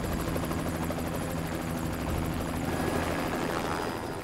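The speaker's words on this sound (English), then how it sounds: "We're sitting in the very back of a Black Hawk helicopter." Steady, loud rotor thrum and turbine whine heard from inside the back of a Black Hawk helicopter in flight, continuous and close throughout.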